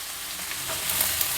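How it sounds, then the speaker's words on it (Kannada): Sprouted grains frying in oil over high flame, giving a brief, close, continuous sizzle that swells slightly toward the end, with no talking. "ಈ ರೀತಿ ಎಣ್ಣೆನಲ್ಲಿ ಫ್ರೈ ಮಾಡಿದ್ರೂ ಸಾಕು ಚೆನ್ನಾಗಿ ಬೆಂದ್ಬಿಡುತ್ತೆ"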